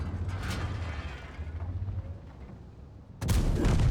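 A tank cannon fires once near the end in World of Tanks, a sudden loud broadband blast after a low rumbling engine drone, with no talk.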